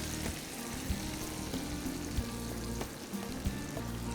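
Cream and tomato sauce sizzle in a pan for creamy Tuscan chicken, a soft continuous crackling close by with faint stirring clicks and no talk.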